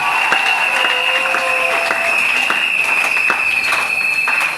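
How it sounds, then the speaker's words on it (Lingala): A church congregation applauds and cheers for Jesus Christ during a worship service, with steady, loud clapping and crowd noise filling the room throughout. "Est-ce qu'on peut acclamer pour le Seigneur Jésus-Christ?"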